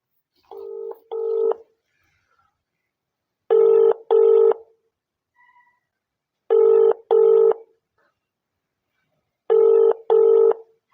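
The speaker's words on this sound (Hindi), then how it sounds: "ये घंटी जा रही है उनको" Pairs of keypad dialing tones beep at regular intervals, loud and clear, with a faint ringing tone sounding between them.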